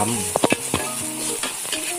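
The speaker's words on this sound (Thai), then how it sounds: "ผัดให้หอมเลยนะครับผม" Fatty beef and garlic stir-frying in a hot pan for Thai basil beef, a steady close sizzle broken by several quick scraping spatula strokes, no talk.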